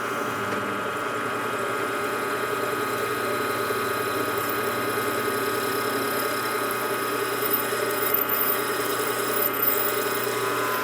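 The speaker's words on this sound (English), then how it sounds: "nice Harbor Freight drill" A steady Harbor Freight electric drill whines continuously for several seconds boring a hole for an air manifold, a constant motor hum with a faint bump near the end, no talking.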